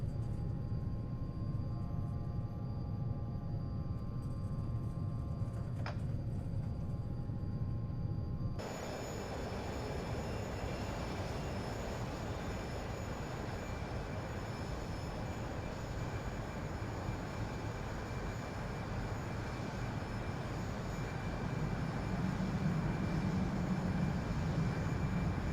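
A Bombardier Challenger 300 business jet taxiing toward the runway in X-Plane 11 at Barbados, with a steady engine rumble and broadband hiss that thickens partway through and stays continuous, no talk.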